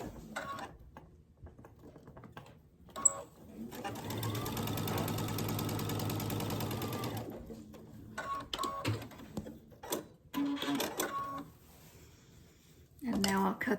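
Sewing machine stitching fabric binding strips for a child's gift, a steady mechanical whir lasting about three seconds in the middle, with speech and small handling noises before and after.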